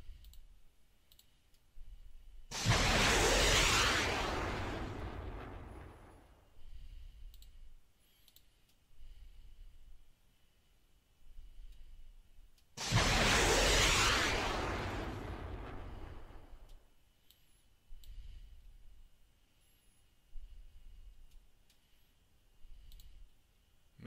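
Weapons launch twice in the naval and air warfare game Command: Modern Naval/Air Operations, each a loud whooshing roar that fades over several seconds, with soft clicks between.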